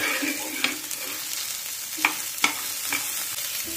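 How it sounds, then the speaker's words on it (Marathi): Fresh green pigeon peas (tur) are sautéed in a pan in a rustic village-style recipe. A soft, steady sizzle runs beneath a few sharp clicks of a spoon or spatula stirring against the pan, spaced irregularly. "हे बघा, आता आपण परतून घेतलेत चांगले सोले"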